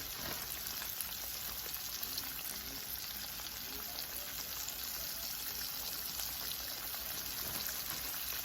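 Crappie and catfish fillets deep-frying in peanut oil, a dense, continuous crackling sizzle at steady volume with no talk.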